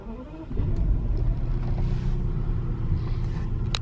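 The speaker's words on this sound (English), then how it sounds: "Now if we go ahead and fire the engine up," A BMW 7 Series engine turns over and catches in cold weather, then settles into a steady, low idle rumble heard close up with no talking.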